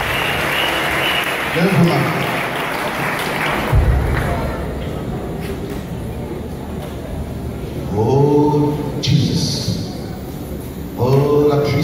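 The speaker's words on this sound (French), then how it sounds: "on acclame le Seigneur pour toute cette guérison" A church congregation at a deliverance service in Côte d'Ivoire applauds in a broad burst of clapping, while a voice speaks loudly over it and later exclaims.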